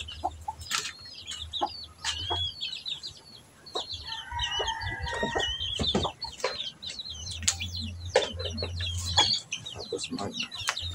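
Hens cluck and chatter busily around a farmyard while a rooster crows once in the middle, with a low engine hum coming and going and a voice speaking briefly.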